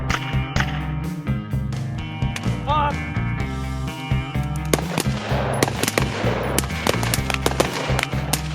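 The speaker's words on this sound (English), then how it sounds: "And then of course, doing some more shooting" Rifle gunfire rings out in a night vision shooting course, a rapid, uneven string of sharp, loud shots from several shooters overlapping over roughly eight seconds, with no talking.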